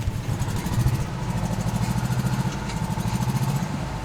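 Old Volkswagen Beetle engine, unrun for two years and with suspect carburetors, struggling to run: a close, rough, pulsing putter with uneven rapid firing and a buzzy rattle, steady throughout.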